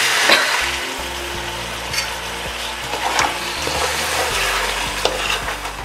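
Chicken stirred and fried in a pan with lemongrass and tamarind, a continuous loud sizzle broken by repeated scraping strokes of a spoon against the pan, with no voices.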